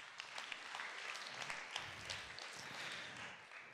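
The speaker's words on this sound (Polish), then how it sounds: "również z energią. Brawa." Audience applause at a Polish award ceremony, a steady wash of many hands clapping that holds at a fairly even level throughout, with no voices on top.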